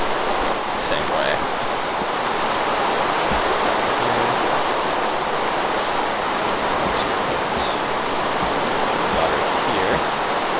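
Steady rain falls in Minecraft, a continuous broadband hiss with no gaps, loud and even throughout, with faint talk beneath it.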